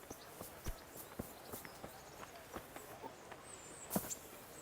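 Faint, irregular clip-clop of horse hooves on hard ground in the video game Kingdom Come: Deliverance, uneven in rhythm, with a louder knock near the end.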